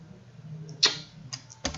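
Computer keyboard typing at a desk, a few scattered keystrokes with a sharper burst near the end, faint and close over a low background hum.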